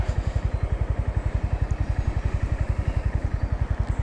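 A 2025 Honda GB350S single-cylinder motorcycle thumps steadily while riding, its rapid, even low pulse loud and close throughout with no talk over it.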